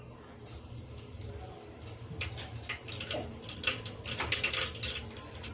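Mustard seeds hit hot oil in a pressure cooker, starting as a soft low bubbling and building into irregular, crackly popping and spitting that grows louder and busier over the last few seconds.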